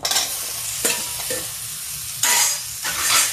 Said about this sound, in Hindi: अब कद्दू को भी हम थोड़ा भूनेंगे।